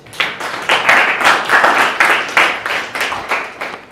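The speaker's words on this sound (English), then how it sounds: "So another round of applause." Audience applause, a dense burst of many hands clapping steadily for a few seconds, loud and close, with no talk over it.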